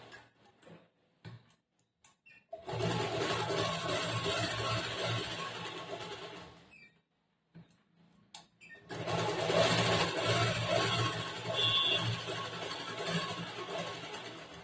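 A sewing machine stitches blouse lining in two long, close bursts of rapid mechanical whirring, separated by a quiet pause with small handling clicks.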